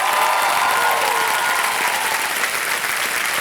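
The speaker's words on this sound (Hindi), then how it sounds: "तालियां बजती रहे मुस्कान के लिए।" Loud, dense applause from a TV quiz show studio audience for a contestant, a sustained roar of many hands close and even in level from start to finish.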